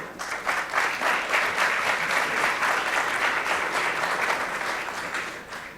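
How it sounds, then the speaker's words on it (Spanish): An audience at a business financing forum applauds as a panel speaker is introduced, producing a steady, dense wash of clapping that stays even throughout and fades slightly at the end, with no voices on top. "Unos aplausos, por favor"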